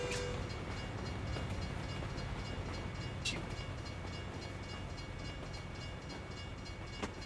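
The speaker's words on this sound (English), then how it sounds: "Yeah, there's a fucking train." A train passes near a truck stop in Louisiana, a continuous broad rumble and rail noise with a few sharp metallic squeals, no talk over it.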